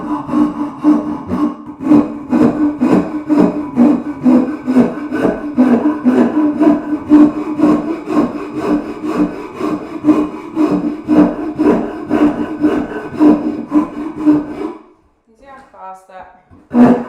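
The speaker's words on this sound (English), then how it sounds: "That saw rasp really works." A saw rasp roughs out a wooden carving with fast, steady back-and-forth rasping strokes, loud and close for about fifteen seconds before stopping, followed by a few faint scrapes and a final knock.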